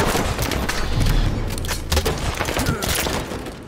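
Rocket launcher fire in the Halo 5 video game, loud booming blasts and explosive cracks in quick succession amid chaotic game noise, with a player's voice talking over it.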